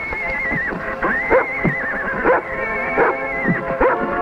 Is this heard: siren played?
no